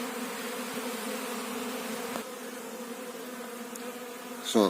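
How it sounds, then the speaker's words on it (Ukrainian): Honeybees hum steadily at an apiary in winter during a cleansing flight, a dense continuous buzz that stays even throughout with a brief louder burst right at the end. "На пасіці такий гул стоїть, ніби настала весна."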